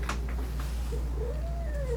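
A cat grows upset while being groomed with a rubber Zoom Groom brush and lets out a drawn-out, rising-and-falling meow near the end, close by over a steady low hum.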